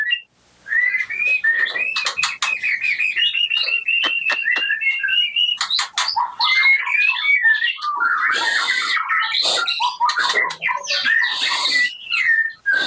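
A white-rumped shama, the murai batu, sings at a breeder's aviary in a loud, close, continuous song of rich whistles, rapid trills and harsh chattering phrases that carries on for the whole stretch with no voices over it.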